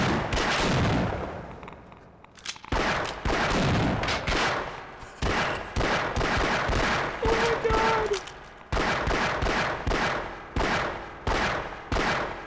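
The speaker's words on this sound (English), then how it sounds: "I've been shooting this one for so long, I just can't tell." Guns fire at enemies in the video game Half-Life: Decay, loud and close, in long dense bursts of rapid shots separated by brief pauses, with players talking underneath.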